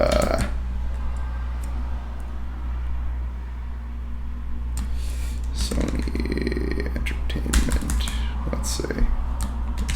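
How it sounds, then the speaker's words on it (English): Computer keyboard typing comes in scattered clicks and short bursts over a steady low hum, fairly close, with a voice speaking partway through. "you can just start typing"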